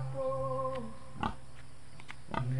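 Close, fairly quiet grunts from a pig on a small farm. Two short, rough bursts sound against a background hum of steady tonal drones.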